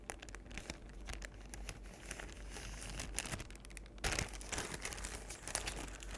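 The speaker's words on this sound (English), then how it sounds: "Let's get some Ziploc bag sounds." A Ziploc plastic bag of Q-tips is crinkled and squeezed up close, a dense run of crisp rustling and crackling bursts that swells louder in the second half, with no voice.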